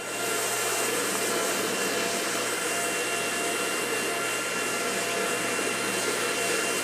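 A 360i hard surface brush head pre-scrubs a floor, giving a steady, loud, broadband whirring motor noise with a low hum beneath and no pause throughout.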